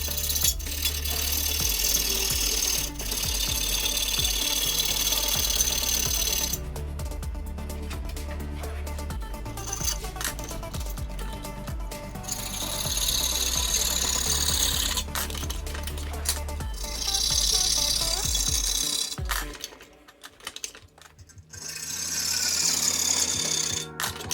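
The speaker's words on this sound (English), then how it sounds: "I'm going to use a junior hacksaw with these fiddly cuts." A junior hacksaw cuts through PVC trunking up close, with steady back-and-forth rasping strokes in bursts broken by short pauses.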